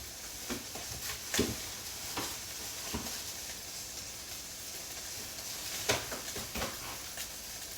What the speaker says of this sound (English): Have a listen to this sizzling.